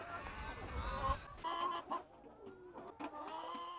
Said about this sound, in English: There's a beautiful Rhode Island red rooster right there.